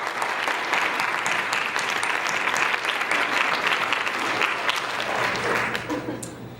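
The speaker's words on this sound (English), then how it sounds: "Let's give another round of applause for all the winners." Sustained audience applause at an awards ceremony honoring award winners, a dense, steady wash of clapping from a large crowd that holds loud for several seconds and then begins to thin out near the end.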